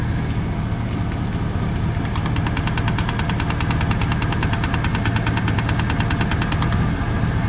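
A 1999 Chevrolet Silverado engine idles with a steady low rumble and a fast, even ticking chatter running over it for most of the stretch, close and loud with no talk.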